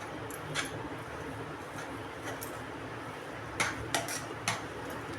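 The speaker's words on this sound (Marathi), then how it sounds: "असं मी दोन तीन मिनटं परतून घेते" Potatoes fry gently in a pan on low heat as a spoon stirs them, a soft steady sizzle beneath a few distinct metallic clinks and scrapes, close and fairly quiet, with no talk.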